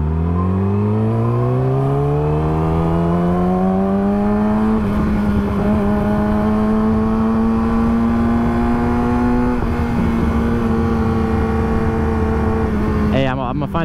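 Car engine revving with throttle, a loud close drone that climbs steadily in pitch, holds high, then wavers briefly, continuous throughout with a bit of talk over it.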